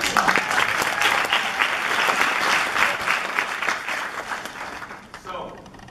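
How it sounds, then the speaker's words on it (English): Audience at an event intro claps and cheers for several seconds, steady and fairly close, then fades out near the end. "Clap it up"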